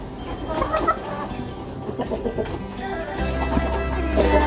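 Chickens cluck at a farm in Nepal, with a steady mix of clucks and calls from a flock over a continuous low background hum, loudness rising slightly toward the end.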